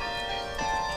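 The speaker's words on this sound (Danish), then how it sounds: "Så du kan tænde klokkespillet fra din iPhone?" Electronic chimes in a private house, switched on from an iPhone, play Für Elise as a sustained run of bright, ringing bell-like tones with a steady tone throughout.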